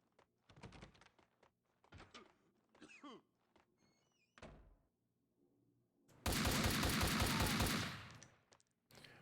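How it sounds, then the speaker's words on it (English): Gunfire at a wall in the video game Max Payne 2, with scattered thunks and impacts, then a loud sustained burst of rapid shots lasting about two seconds, followed by a final impact. "shooting the wall a bunch of times wasn't my best option"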